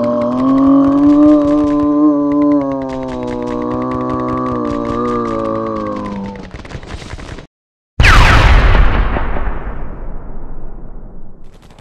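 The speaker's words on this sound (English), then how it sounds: "Grenade!" A war film scene: a sustained droning engine or motor tone with rapid crackling gunfire over it, then a moment of silence before a sharp, loud grenade explosion that booms and slowly decays with lingering rumble.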